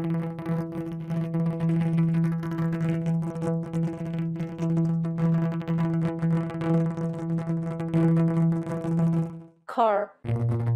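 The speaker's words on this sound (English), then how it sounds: "plays a spatialized audio rendering of the outline of each" Spatialized audio rendering of outlines of regions in an outdoor street photo, heard as a sustained tonal drone with steady harmonics for about nine seconds, followed by a short rising chirpy sweep and a lower tone near the end.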